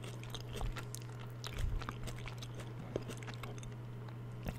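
Close-up chewing of homemade french fries in an ASMR mukbang: soft, repeated crunchy bites and wet mastication, quiet and intimate over a low steady hum, no speech.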